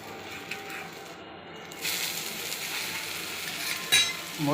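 Ragi dosa frying on a hot pan as it is flipped over, a steady soft sizzle that swells louder partway through, with a brief scrape and clatter of the flip near the end.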